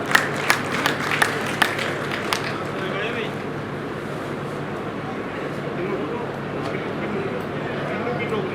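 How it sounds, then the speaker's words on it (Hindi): Seated crowd in a pavilion at a 101st birth anniversary celebration in Bhiwani applauds, a few sharp nearby claps at first, then a dense, steady wash of clapping amid crowd noise. "एक बार आप पंडाल में बैठे सभी जोरदार तालियों के साथ"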